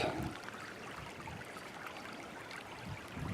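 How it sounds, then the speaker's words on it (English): A small brook flows along a suburban hiking trail, giving a soft, steady, broadband wash of trickling water heard alone at moderate distance throughout. "There's a nice little brook too."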